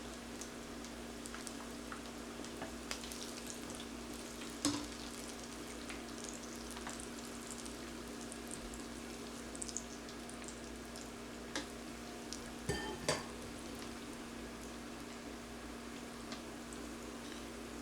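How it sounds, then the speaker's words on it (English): Soft, constant sizzling of ackee and saltfish stuffed dumplings frying in oil, quiet and steady with a few faint clicks and pops, no voices. "we're gonna let them fry until them golden brown"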